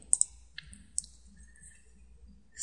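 Several sharp mouse clicks in IT Guru network simulation software, a quick double click followed by two more spaced single clicks, crisp and close against near-silence.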